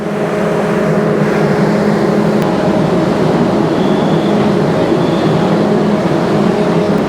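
The Jahanabad Express passenger train runs along the track from Khulna toward Dhaka, heard from inside as a loud, steady low rumble and rattle that continues without a break.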